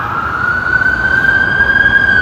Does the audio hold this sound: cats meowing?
no